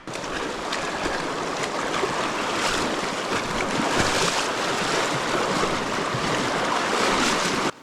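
A raging mountain creek rushes past in a steady, loud, broadband roar of churning whitewater, close by and unbroken, with some wind buffeting and no talk.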